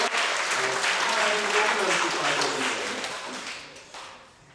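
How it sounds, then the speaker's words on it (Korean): A church congregation applauds Sunday school children at a children's Sunday service, steady dense clapping filling the room for several seconds before thinning and fading toward the end. "박수 한번 주세요."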